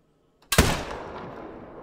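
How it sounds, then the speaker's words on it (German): A single sharp hunting-rifle shot in the video game theHunter: Call of the Wild, loud and close, with a long rolling echo that fades slowly over the following second and a half. "der zweite Schuss war scheiße"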